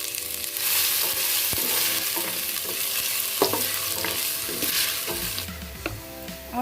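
Ginger fries and sizzles in a pan for chicken feet and liver adobo, a steady close hiss with occasional stirring scrapes and clinks.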